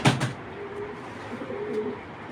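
Several racer pigeons coo softly up close, low rolling calls drifting in and out across the stretch after a brief knock at the start, with no voices.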